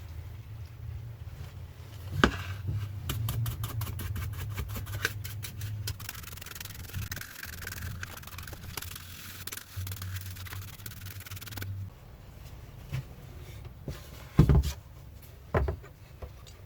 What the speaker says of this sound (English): I will ram them up in the casting sand